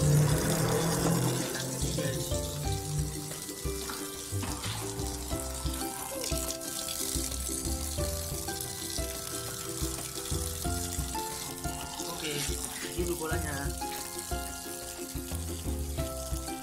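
Children's toys being washed under a running tap, with a steady, close stream of water splashing over them, heard under loud background music.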